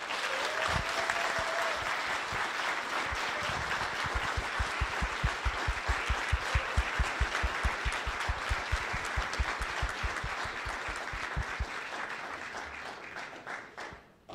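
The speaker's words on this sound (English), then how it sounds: "Give them a random applause when they enter the room." Audience applause as a team enters the room at a 2023 case competition, a sustained wash of clapping that turns into rhythmic, synchronized claps in the middle before fading out, with faint talk underneath.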